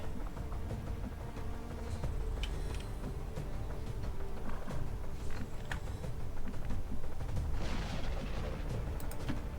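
A grenade blast in the tactical video game XCOM 2 rumbles through dense, continuous combat noise, with booming bursts and sharp cracks layered over a steady low roar, no clear voices.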